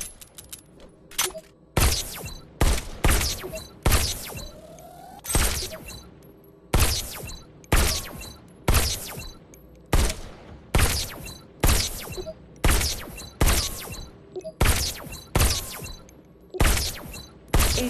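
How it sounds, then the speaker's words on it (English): Rapid pistol fire in the VR shooter Robo Recall on Quest 3, sharp loud shots in quick bursts with brief gaps, each crack followed by a short metallic tail, close and dominant with no talking. "Just squeeze the trigger to shoot."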